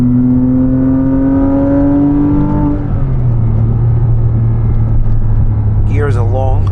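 A 2006 Porsche Cayman S with a six-speed manual revs loudly inside the cabin: engine drone climbs, drops at a gear change, then pulls steadily again, with a brief voice near the end.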